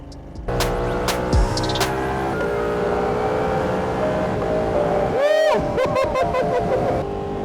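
A Ducati Panigale V2 motorcycle on a test ride, its engine droning loud and close with tones that hold and shift as it revs and changes pitch, and a brief sharp dip near the end, with no talking.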